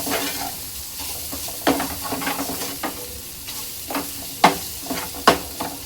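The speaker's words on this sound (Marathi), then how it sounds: "आता हे मसाले आहेत ना आपल्याला मस्तपैकी मिक्स करून घ्यायचे आहे।" Spices sizzling in a hot pan while a spoon stirs and scrapes, with several sharper knocks against the metal standing out from the crackle.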